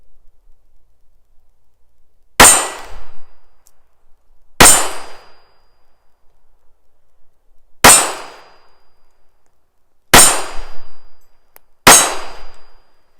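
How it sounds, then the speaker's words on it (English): A small old pocket pistol with no sights fires a group of five sharp, loud shots at irregular intervals a few seconds apart, each a crisp crack with a brief ringing tail and quiet between shots. "I'm going to shoot a little group there"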